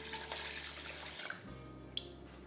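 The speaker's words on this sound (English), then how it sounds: "And then we add our water." Water poured into a cooking pot for seafood paella stock with garlic cloves, a steady rushing pour running throughout with a brief break partway, close and fairly quiet.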